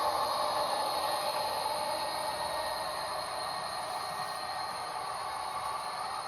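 A model train runs on a home layout, producing a faint, steady whirring and rolling hiss. The sound is unbroken and even, with no voices over it.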